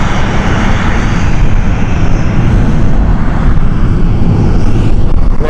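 A Bombardier Global 5000 business jet moving at Stansted Airport, heard very loud and close as a constant heavy engine roar, with wind buffeting the microphone in wet weather.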